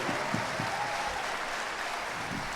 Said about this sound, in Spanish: fuerte el aplauso para todos y cada uno de nuestros músicos